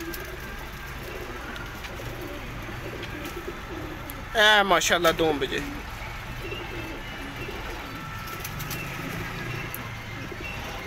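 Pigeons kept in a loft give a short burst of close cooing, a few rising warbling coos in quick succession, over a low background hum while someone talks nearby.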